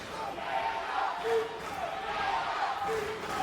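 A wrestling crowd at a Mark Briscoe match chanting and cheering in steady rhythmic waves to encourage him, a broad roar of many voices filling an arena.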